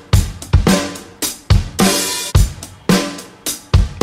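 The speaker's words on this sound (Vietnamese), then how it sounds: "chúng ta sẽ nghe âm thanh được xử lý qua một tiếng trống cơ bản thôi" Basic unprocessed drum loop with punchy kicks and snare hits and a hissy cymbal wash, repeating in a steady groove, close and loud with no voice.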